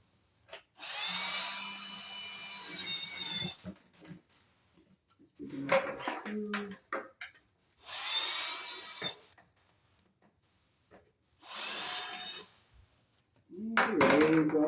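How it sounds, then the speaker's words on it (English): Power drill with a bit boring holes through a metal light fixture box, in several loud whining bursts separated by pauses, with someone talking between bursts. "So I'll drill just through that with the bit."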